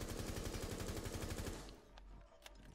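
Rapid automatic gunfire in the tactical shooter Rainbow Six Siege, a fast steady burst of close shots lasting about a second and a half, then fading into a couple of faint distant shots, with no talking.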